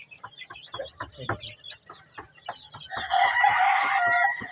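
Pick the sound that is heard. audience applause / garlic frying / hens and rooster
hens and rooster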